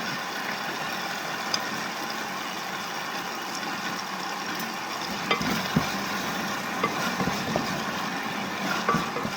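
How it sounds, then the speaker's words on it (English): Heavy tomato paste fries in a pan as it is stirred through, a moderate steady sizzle with occasional sharp scrapes and clicks from the utensil, close by and without speech. "This is heavy tomato paste. It depends on your tomato paste, if it's a good one or not. Stir it through, fry it through."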